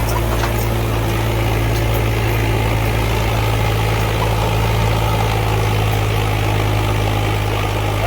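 A tractor engine runs loud and close with a heavy, steady low rumble throughout, no talking over it.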